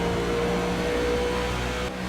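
Onboard NASCAR Cup race car engine during a Miami 250 race, a loud steady drone with a constant tone that dips briefly near the end.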